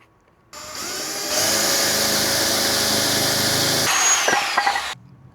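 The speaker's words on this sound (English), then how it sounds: "I don't think it's the right drill bit" A power drill fitted with a drill bit, working on a Kei truck, whirs up and runs at a steady high-pitched whine for several seconds, then winds down and stops.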